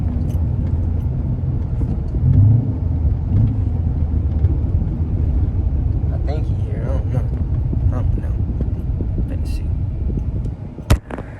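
Chrysler 300 Hemi C V8 with fully straight-piped exhaust, a steady loud low rumble throughout with a few revs near the end, while people talk over it.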